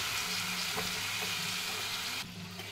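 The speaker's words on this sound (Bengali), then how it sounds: "এবার আপনাকে মশলাটাকে আস্তে আস্তে কষতে হবে।" Spice masala slowly frying in a pan, a steady close sizzle with soft scraping from stirring, continuous and even before dropping slightly near the end.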